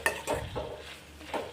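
A spoon stirring thick tomato and dried red chili chutney in a pot, a few soft scraping strokes over a low, bubbling simmer heard close up.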